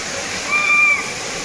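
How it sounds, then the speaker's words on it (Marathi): A 150-foot waterfall gives a steady, broadband rushing roar at close range. A faint whistle-like tone rises briefly over it midway through. "वॉटरफॉल बघू शकता हे बघा"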